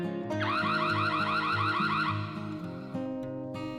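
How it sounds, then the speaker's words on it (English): A Noorio security camera's trespasser alarm sounds loud and close, a rapid warbling electronic siren over repeating tones that cycles through changing patterns like a car alarm. "An alarm can be enabled to scare away any trespassers."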